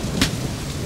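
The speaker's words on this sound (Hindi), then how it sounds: "बारिश आ गई है" Rain falls as a steady, broad hiss for under a second, with a brief louder splash partway through and no voices.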